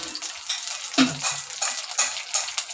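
Curry leaves sizzle in hot oil for a tempering, a close crackling hiss with spattering pops and a few stirring scrapes in the pan, no talking.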